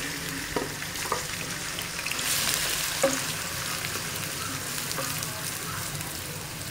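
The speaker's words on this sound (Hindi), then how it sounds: "प्याज को हम अच्छी तरह से फ्राई करेंगे।" Sliced onions frying in hot oil for tinday gosht, a steady close sizzle with occasional scraping stir strokes and light clinks of the spoon against the pot.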